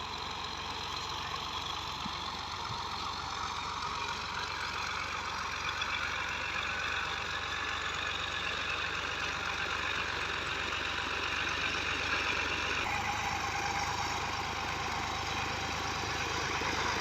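A 2015 Ghazi tractor idles with a steady, unbroken engine drone, close and constant for the whole stretch, with a slight shift in tone near the end.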